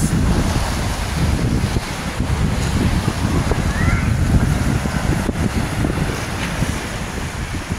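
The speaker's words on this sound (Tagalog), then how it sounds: "Malalaki ang alon guys." Large waves surge and crash on flooding Laguna Lake at Baclaran, Cabuyao City, a continuous heavy roar of churning water mixed with strong wind buffeting the microphone, close and loud throughout.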